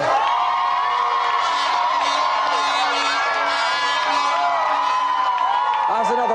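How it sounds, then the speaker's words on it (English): A television studio audience whoops and cheers loudly for a winning challenger on a video games show, a dense continuous roar of voices with no pauses. "So let's have another round of applause for our triumphant challenger"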